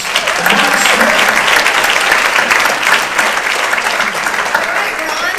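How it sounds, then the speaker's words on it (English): Seniors' talent show audience applauds a singer, sustained dense clapping from a large crowd filling the room steadily for several seconds at close range. "Let's have another round of applause for Mark Smith."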